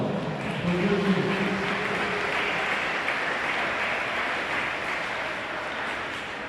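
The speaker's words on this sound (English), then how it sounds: "Give everyone a round of applause for your meet." Audience applause fills a swimming championship natatorium, a broad steady wash of clapping and cheering that holds evenly throughout, with voices mixed into the crowd noise.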